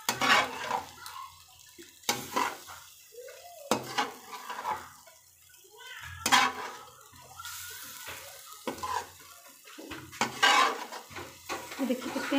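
A spoon scrapes and stirs macaroni through thick sauce in a pan in repeated bursts, with clanks against the metal and a soft sizzle between strokes.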